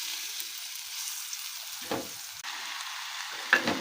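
Crushed garlic drops into hot oil in a kadai, cooked with chili greens and shrimp. A soft, close sizzle rises, broken by two brief stirring scrapes.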